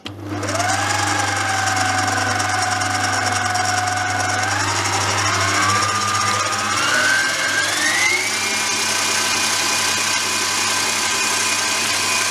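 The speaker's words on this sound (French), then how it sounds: "On va mélanger un liquide à un corps gras et c'est très dur à mélanger." Liquid being mixed into buttercream, a steady motor whine that climbs in pitch in steps as the beating speeds up, loud and continuous with no talking.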